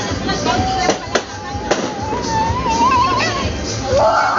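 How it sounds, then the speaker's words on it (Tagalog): New Year's fireworks pop and crackle in sharp bursts while people nearby shout and chatter, with whistling streaks rising between the bangs. "Hintayin natin yung fireworks."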